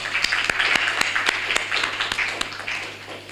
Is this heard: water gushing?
no